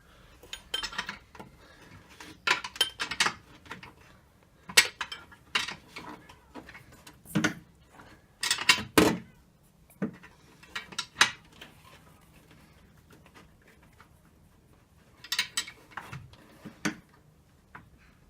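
A spanner working a water temperature gauge adapter fitting tight on a car, heard as irregular sharp metallic clicks and clanks in short bursts separated by quiet pauses, close and fairly faint.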